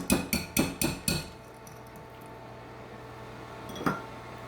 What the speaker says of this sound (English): Want to get it really mixed well.